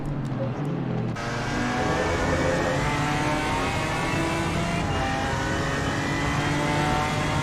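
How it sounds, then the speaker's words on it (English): A BMW race car's engine heard on board at Imola during an endurance race, loud and close, revving hard and pulling steadily through the gears with a continuous rasping drone. "Much different sounding car, the BMW."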